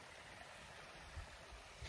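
Small waterfall on a river in the Black Mountains of the Brecon Beacons, Wales, a steady close rush of falling water with no talk over it.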